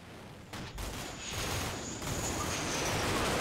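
A grenade launches amid modern combat in the wargame Combat Mission Shock Force 2, with sharp bursts of gunfire and a dull boom rolling over a steady battlefield din, moderately distant.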